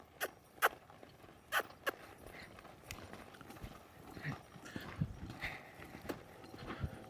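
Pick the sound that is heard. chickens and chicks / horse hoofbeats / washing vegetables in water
horse hoofbeats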